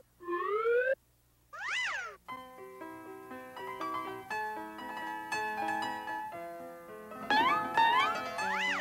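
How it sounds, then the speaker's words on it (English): A small kitten mews in a cartoon scene, with a couple of short, high cries near the start and more mewing near the end over bright musical notes. "It's a little kitten."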